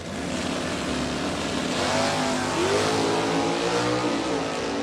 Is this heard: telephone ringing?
no